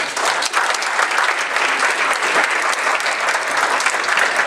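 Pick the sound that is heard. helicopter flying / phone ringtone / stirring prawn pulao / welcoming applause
welcoming applause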